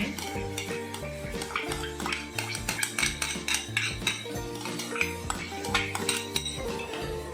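Rice is stirred into vegetables in a cooking pot for masale bhat, a spiced vegetable pulao: a steady series of metal spoon scrapes and clinks against the pot, close and fairly loud, over a background of music.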